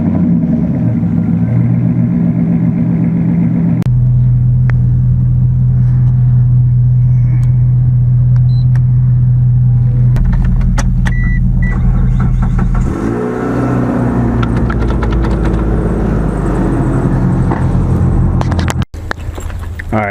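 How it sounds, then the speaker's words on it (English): A Mitsubishi Eclipse with an exhaust leak rumbles loudly up close, its deep idle droning evenly before the engine note shifts and revs, with a few sharp clicks and knocks near the end. "She's a little loud, the exhaust leak."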